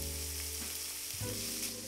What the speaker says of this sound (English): You want to let these fry undisturbed for about 3 to 4 minutes, or until you get a nice brown crust on one side